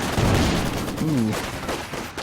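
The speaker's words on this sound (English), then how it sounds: "The officer model gets sniped and the Sturmoffizier is forced to retreat" Gunfire in a World War II strategy game match, with a rattling burst of shots and a sniper crack near the start, then fading battle noise.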